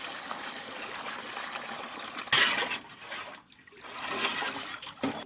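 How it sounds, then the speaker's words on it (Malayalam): Water is poured into a pot of biryani masala, a steady close trickle and splash that rises and dips, with a brief louder gush midway and a quieter stretch before the flow resumes. "മസാല റെഡി ആയിട്ടുണ്ട് ഇതിനാവശ്യമായ വെള്ളം ഒഴിച്ചു കൊടുക്കാം"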